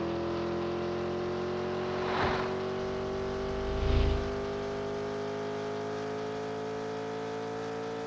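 A 2009 Honda Accord mod in Farming Simulator 19 speeds along, its engine droning steadily and slowly climbing in pitch, with two brief louder swells passing through.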